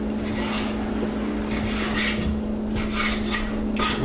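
Knife slicing roughly five half-pound boneless pork chops very thin during taco prep, a steady rasping scrape that repeats in short strokes over a constant low kitchen hum, close and moderately loud.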